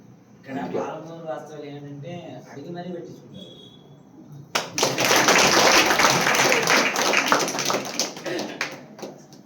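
An audience clapping together at a Telugu devotional talk, a dense, loud burst of applause that starts abruptly after a stretch of speech and holds steady for several seconds.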